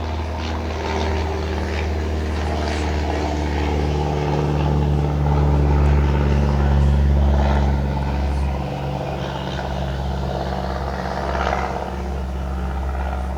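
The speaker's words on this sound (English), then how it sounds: "Oh, now we get the airplanes going over." Small propeller airplanes drone overhead near a small airport, a steady engine hum that swells and fades gently over several seconds outdoors.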